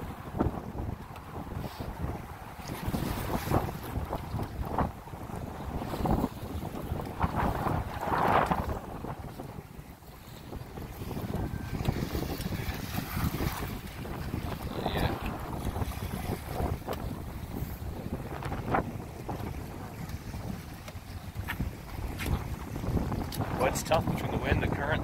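Wind gusts roar across an open fishing boat out on the water during sturgeon fishing, a steady broadband rush with occasional buffeting on the microphone and faint water movement, with voices talking intermittently underneath.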